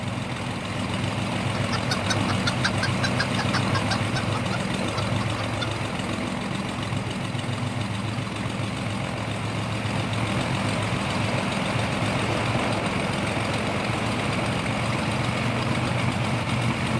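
A motor vehicle engine runs at a steady idle, a continuous low rumble with a faint knocking texture, unbroken and fairly close, with no voices.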